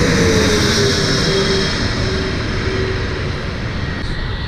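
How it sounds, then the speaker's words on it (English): A large airplane comes in to land at LAX, its engines a loud, close roar with a slowly falling whine that stays steady as it passes overhead. "here comes a plane right now"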